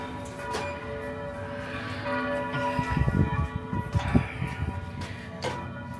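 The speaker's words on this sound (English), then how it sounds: "Those church bells are so cool." La Paz Cathedral bells in Baja California Sur, Mexico, ring out in a slow series of overlapping strikes, their tones lingering and blending, moderately distant with a low rumble beneath.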